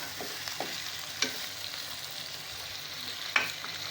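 Pieces of taro root (arvi) frying in a pan for an aloo arvi curry, a faint even sizzle broken by a few sharp clicks of stirring.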